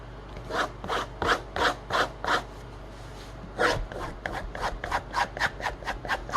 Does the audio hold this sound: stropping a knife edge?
yes